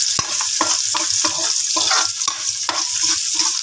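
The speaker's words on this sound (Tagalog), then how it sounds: "Binisa ko muna guys ang ating sibuyas at bawang" Onion and garlic sauté in a pan, a bright, close sizzle that holds steady throughout, with quick rhythmic scrapes and taps of stirring.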